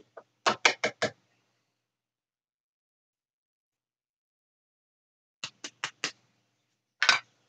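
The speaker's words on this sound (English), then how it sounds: "a little bit bigger drill" Short bursts from a bigger drill boring a hole in a garage door remote: a cluster of four quick whirring pulses, a long silence, then three more pulses and one final burst, close and alone.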